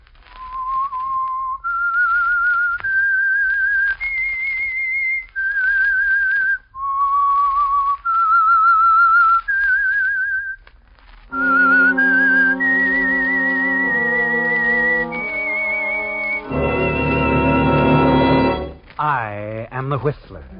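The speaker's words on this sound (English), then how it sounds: "That whistle is your signal for the Signal Oil program" A lone clear whistled melody of sustained, gliding notes opens the signal theme for The Whistler radio show, then gives way to a loud orchestral chord passage and swelling music.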